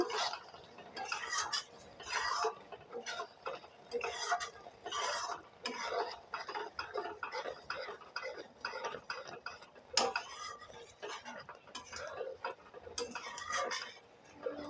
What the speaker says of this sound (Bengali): গুঁড়ো মশলাটা চাটনির মধ্যে দিয়ে দিলাম নাড়াচাড়া করে নেব এখন